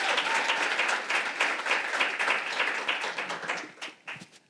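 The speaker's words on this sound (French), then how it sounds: "Est-ce qu'on peut encore les applaudir pour tout le travail qu'ils effectuent au milieu de nous?" A live audience applauds at a church gathering, dense clapping rising and then thinning toward the end as individual claps stand out.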